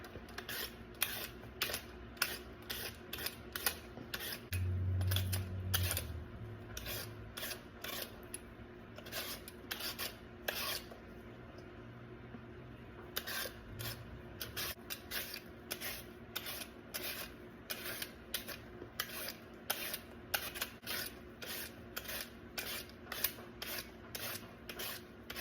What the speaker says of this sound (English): My little delicata squash is too soft. I think I waited too long, but I'll cut it to make sure.